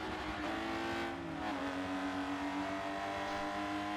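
A race car engine in a Monza racing game holds steady at high revs on throttle, a continuous buzzing drone with shifting pitch running the whole time, with no voices over it.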